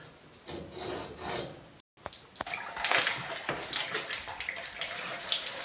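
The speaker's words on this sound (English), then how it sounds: "There's some water remaining in the pipe. We expect a little bit of water coming out." Leftover water drains from a freshly cut plumbing pipe during a valve installation. A wet rushing and trickling sound breaks off into a brief silence, then resumes louder and splashier for several seconds.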